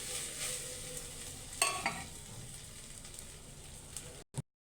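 Rice frying in a pan for egg biryani on a lowered flame, a steady soft sizzle with scraping stir strokes near 1.6 and 1.9 seconds, closing with a short clatter before silence.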